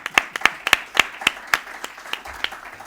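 A few people clapping at a Spanish-language gallery talk on curating, sparse distinct hand claps in a loose rhythm, about a dozen sharp claps over a few seconds, close and clear.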